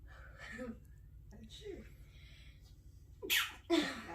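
A quiet sneeze with a sharp intake and burst, followed by a second sneeze, over a low hum, with faint soft speech earlier.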